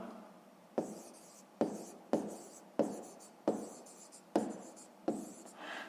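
A pen writes out a fifth-grade math answer on paper in seven distinct, evenly spaced strokes, each a short close scratch that fades quickly, with no talking.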